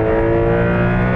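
A Porsche 911 of the 992 generation, turbocharged, revving hard in Sport Plus mode, a loud continuous engine roar heard close from inside the car, with no one talking over it.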